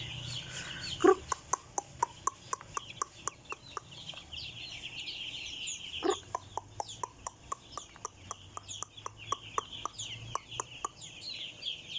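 Three-day-old broiler chicks on a farm keep up a faint, busy chorus of high peeping chirps, with steady rhythmic clicking ticks running through the background and no talking.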